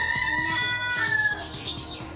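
A rooster crows nearby outdoors, its drawn-out call rising and holding over a steady background with faint rhythmic ticking; no one speaks.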